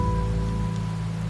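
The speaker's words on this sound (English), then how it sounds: "Rain's back." Steady rain in the video game Wuthering Waves, a dense wash of falling drops heard alone under a low game-music drone with sustained tones.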